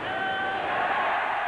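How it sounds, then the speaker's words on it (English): A large stadium crowd at a 1990 rugby league match between Manly and the Brisbane Broncos lets out a loud, sustained ironic cheer, a dense roar of many voices throughout. "And the ironic cheer as he hits the deck."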